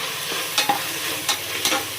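Ginger garlic paste stirred in a hot pan for fish curry, a steady sizzle of frying under a few brief scrapes of the spoon against the pan, close and moderately loud.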